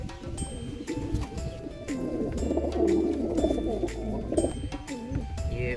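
Roller pigeons coo in low, throaty, rolling calls that overlap steadily and close by, with a few faint chirps mixed in.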